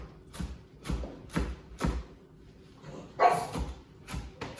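Puppies nearby give a series of short, sharp barks and yips in an uneven rhythm, mixed with some whimpering, in a home kitchen setting.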